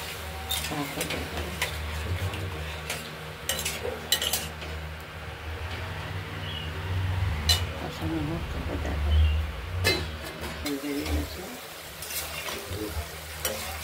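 Potatoes being sautéed with spices and salt in a pan, a steady low frying sizzle with scraping stirs and occasional clinks of utensils against the pan, while a person talks over it.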